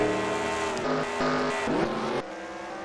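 A race car in a DASCAR racing video game spins out at the Bikernieki circuit, its engine whining loudly and steadily with shifting pitch, briefly dipping and surging as it slides.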